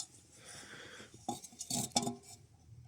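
A metal cooking pot holding liquid handled beside a campfire outdoors, a faint rustle then a few close metallic clinks and knocks in quick succession.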